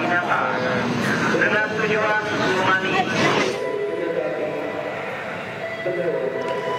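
A train rumbles at Pasar Senen railway station in Jakarta, loud and close at first and then easing, with a speaking voice over it.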